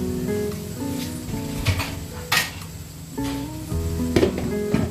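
A cooking lid set down on a pan of soft malai sandwich dessert pieces, giving a few light metallic clinks and knocks over steady background noise.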